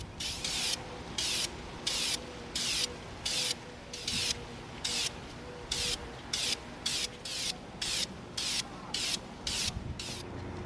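An aerosol can spraying Plasti Dip onto an EVA foam prop, in short, evenly repeated hissing bursts of about half a second with brief pauses between, close and fairly loud with no speech.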